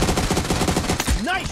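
Rapid automatic gunfire in the PUBG Mobile video game, a dense, loud stream of shots that ends with a short rising and falling electronic whoosh.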